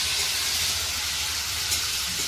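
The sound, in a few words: frying in hot oil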